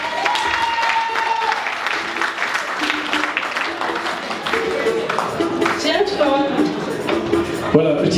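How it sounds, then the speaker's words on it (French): Studio audience applauding on a French-language television game show as a contestant is welcomed, with music and a presenter's voice running over the clapping throughout. "On l'applaudit s'il vous plaît."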